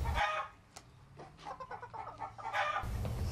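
A pet bantam rooster clucks in a quick run of short, close calls, with louder crowing-like bursts at the start and end.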